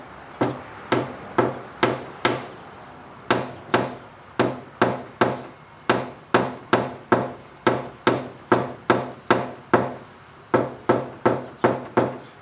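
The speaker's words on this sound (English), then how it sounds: "So now I'm going to actually tap this one down just a little bit." A tool taps down a dent in a car body panel, sharp close knocks in quick bursts of three to five with short pauses, repeated about thirty times and no voices.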